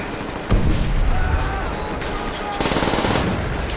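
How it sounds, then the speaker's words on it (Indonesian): Machine gun fire in the Call of Duty World at War campaign on Veteran difficulty during an assault on a town, a sustained, loud battlefield clatter with a sharp burst at the start and another surge near the end, with some voice mixed in. "Ada machine gun."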